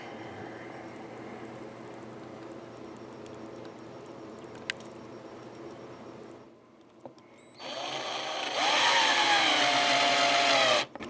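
A power drill drives screws straight into a guitar body without pre-drilling, a steady motor whir that drops away briefly and then returns as a loud, high, strained whine near the end.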